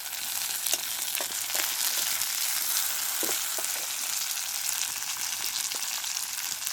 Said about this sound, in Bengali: দেখো ভাজা ভাজা হয়ে গেছে, এবার টমেটো দিয়ে দেবো।